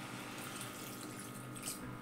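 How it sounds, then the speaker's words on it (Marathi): Fresh water pours steadily into a pan of taro leaf curry, a continuous close splashing rush that stays even and moderately quiet throughout. "हे बघा पाणी निथळून काढलं तर दुसरं पाणी घालते मी"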